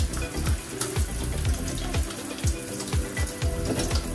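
Running tap water pours steadily as baby bottles are rinsed beneath it, with a continuous splashing wash and repeated short knocks and clatters of the bottles against the sink.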